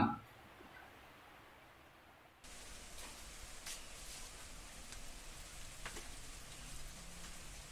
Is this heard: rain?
yes